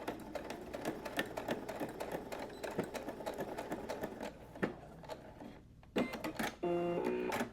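A sewing machine stitching across the corner of a fabric diaper pouch, running in a fast close rattle of needle strokes, pausing briefly, then finishing with a short steady whirring run.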